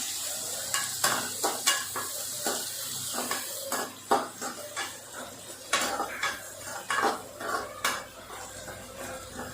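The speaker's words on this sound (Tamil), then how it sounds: "இந்த வெங்காயம் நல்லா பொன்னிறமாக வர்ற அளவுக்கு நம்ம நல்லா வதக்கிக்கணும்." Onions for a fish curry sauté over high heat while a metal spoon scrapes and clatters against the pan in quick, repeated strokes over a steady frying sizzle; nobody speaks.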